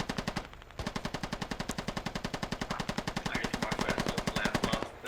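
A GPMG machine gun fires in a video game battle as one long, rapid, unbroken stream of loud, evenly spaced shots that lasts several seconds.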